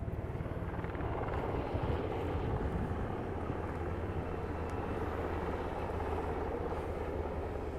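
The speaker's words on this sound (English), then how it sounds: "We've got what looks to be a Marine helicopter flying solo." A Marine Corps military helicopter flying overhead above the National Mall, its deep rotor thumping and engine drone steady and loud throughout, with no voices.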